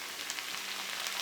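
Tomatoes tipped into onions already frying in a pan, giving a steady, close crackling sizzle with fine popping throughout, no voices.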